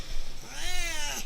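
A cat sitting close by gives one drawn-out, rising-and-falling meow lasting about half a second over a low background rumble.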